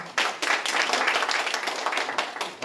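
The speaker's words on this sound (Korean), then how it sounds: "김기대 도시안전건설위원회 위원장님께 감사의 박수 부탁드리겠습니다" Audience applause of thanks at a public forum on a Han River bridge plan, a steady crowd clapping sustained and fairly close throughout.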